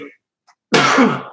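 One sharp, loud sneeze near the end, preceded by a brief breathy intake during a live chat show.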